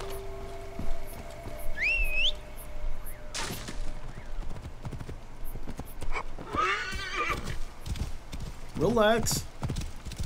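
Horse in the video game Assassin's Creed Origins whinnying a few times while hooves clip-clop along the ground, close and moderately loud, with someone speaking briefly over the in-game sounds.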